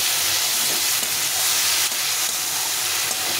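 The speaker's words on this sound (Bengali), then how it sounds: "নুন হলুদটা দিয়ে দিয়েছি, দিয়ে এটাকে ভালো করে কষিয়ে নিতে হবে। মশলা থেকে তেল ছেড়ে দিয়েছে" Spice paste with salt and turmeric fries in hot oil for a spicy crab curry, a loud, continuous close-up sizzle and hiss with no pauses and no voices.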